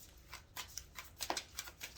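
Soft, quick riffling of tarot cards being shuffled, a series of light papery flicks close by and fairly quiet.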